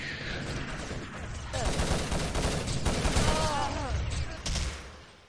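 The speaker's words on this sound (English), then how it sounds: "Nice grenades there by Turkey." Rapid bursts of gunfire and explosions crackle through an online first-person shooter match, with a commentator talking over the dense, continuous battle noise.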